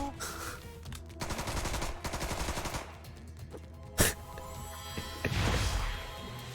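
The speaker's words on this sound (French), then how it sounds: "Tir croisé." Bursts of rapid cartoon gunfire from a crossfire attack in South Park: The Stick of Truth, with a sharp impact thump and a low rumble, set against game music.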